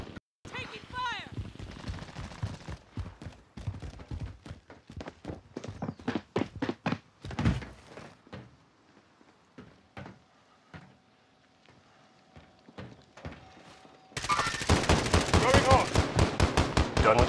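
Rapid automatic gunfire and single shots crackle through a battle royale video game, with dense bursts early, sparser shots midway and a loud sustained volley at the end, a voice speaking briefly.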